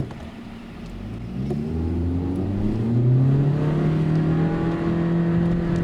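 A 2015 Nissan Juke 1.6 running on petrol accelerates, its engine note climbing steadily in pitch through the gears as a continuous close-up drone, with no voices over it.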